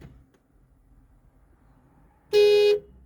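A Lexus ES300 car horn sounds once from the remote panic button, a single loud, steady blare lasting under half a second after a near-silent pause.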